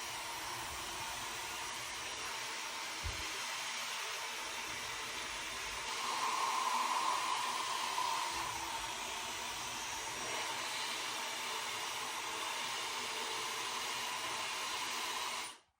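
A hair dryer blows steadily on medium fan and medium heat for an at-home blowout, a loud, continuous airy whoosh up close that shifts slightly in tone midway before switching off at the end.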